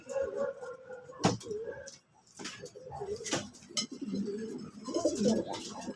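Breeder pigeons cooing in a loft, soft repeated coos mixed with wing flutters and a few sharp clatters, close by, under someone talking intermittently.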